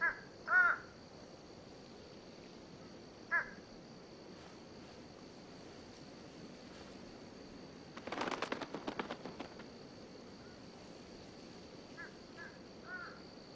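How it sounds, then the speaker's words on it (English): Fish crows feeding on fruit in southern Florida give a few short caws near the start and a burst of calls in the middle, fairly faint over soft outdoor wind and surf-like background. "These fish crows, feeding on fruit in southern Florida, are unwitting accomplices to murder."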